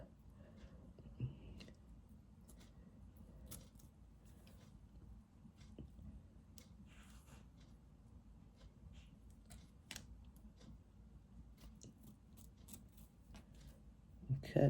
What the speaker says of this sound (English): So we're going to cut this lace.